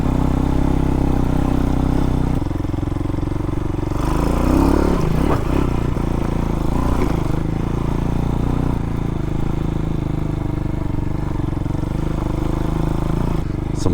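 A quiet Hawk-X 250 motorcycle cruising along back roads, its engine a steady low drone that stays loud and close with wind rush throughout, lifting briefly as it revs midway.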